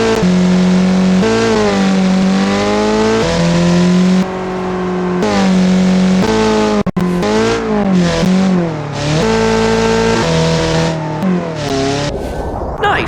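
Twincharged sedan in BeamNG racing flat out around the Nürburgring, its engine droning loud and steady with rising and falling revs through gear changes and corners, a brief break midway.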